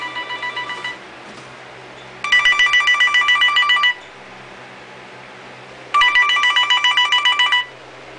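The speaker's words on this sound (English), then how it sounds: "someone calling me right now" A mobile phone rings with an incoming call indoors, three bursts of rapid trilling tones separated by pauses, loud and close with no talk over it.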